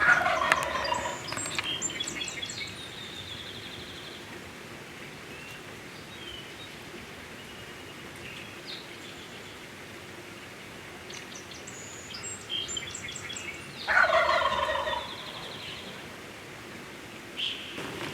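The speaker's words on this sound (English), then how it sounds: "he stands there drumming and gobbling for 12 minutes" A wild gobbler, a copper-phased bird, gobbles in loud, rattling bursts at the start and again near the end, close by in quiet North Carolina woods during turkey season.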